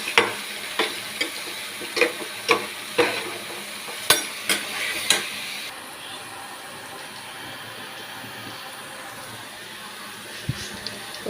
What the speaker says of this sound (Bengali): আর এদিকে ডিমের মশলা কষা হচ্ছে।